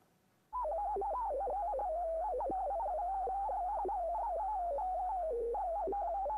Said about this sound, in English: So that's the sound of DNA going through a nanopore which has been frequency